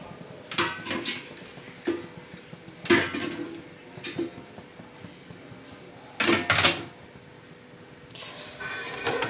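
A metal spoon stirs spice masala for a Bengali batasio fish curry in a pan, giving a few loud scraping clanks against the metal at irregular intervals over a low kitchen background.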